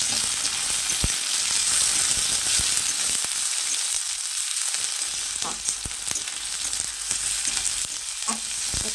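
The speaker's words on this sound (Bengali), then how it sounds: "এই পর্যায়ে আমি এখন টমেটো দিয়ে দিব, দিয়ে আরও ভালো মতো করে ভেজে নেব।" Browned onions frying with tomatoes in a pan: a loud, continuous close sizzle with occasional scraping and stirring clicks, and no talk.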